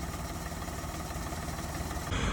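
A tractor's three-cylinder KM385 diesel engine idles steadily with a low, even rumble, close by and unchanging, growing slightly louder at the very end.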